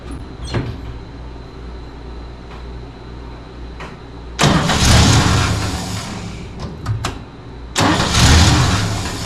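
An old car engine idles with a low steady rumble, then surges loudly twice as the throttle is adjusted, with brief clanks between the bursts of revving.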